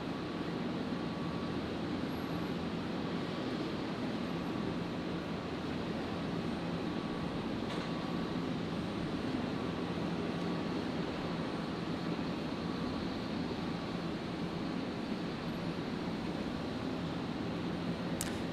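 Jetstar Airbus A320 rolling for takeoff on runway 01 right at Brisbane Airport, a steady, broad, distant engine roar holding at an even level with no change in loudness.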